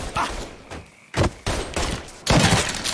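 Bursts of gunfire in the Mafia 3 video game come as several loud, close volleys separated by short gaps, with no speech over them.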